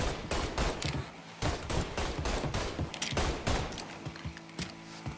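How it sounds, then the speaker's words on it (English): Shotgun fire in the video game Mafia 3: a rapid series of loud, sharp blasts with some overlapping bursts and echoing gunfire between them. The shots continue with no pause. "It's shotgun time!"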